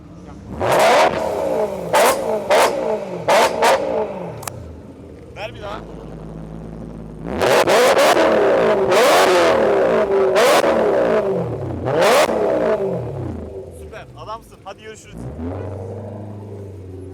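A BMW M5 F10 revs hard in a series of sharp blips, then holds longer high-rpm bursts with rising and falling pitch, loud and close, with people talking between the revs.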